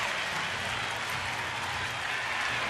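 Large ballpark crowd cheering and roaring at a Phillies at Nationals baseball game, a steady dense wall of noise sustained throughout without letup.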